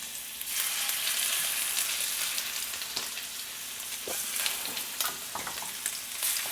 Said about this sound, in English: we've got our butter already bubbling